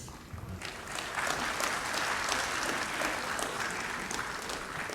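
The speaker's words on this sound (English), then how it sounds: "give a quick round of applause" An audience at a leadership summit panel discussion on technology gives the panelists a round of applause, continuous even clapping from many hands, moderately distant and sustained for several seconds.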